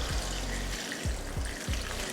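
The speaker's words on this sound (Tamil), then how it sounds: "இந்த நண்டு முங்குற அளவுக்கு தண்ணி ஊற்றிக்கலாம்." Water poured into crab masala simmering in a pan for crab pepper masala, a steady trickling pour running the whole time over a constant low rumble, with a few soft splashy bumps.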